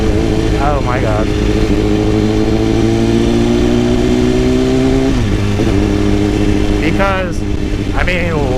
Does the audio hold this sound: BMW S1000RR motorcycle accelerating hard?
yes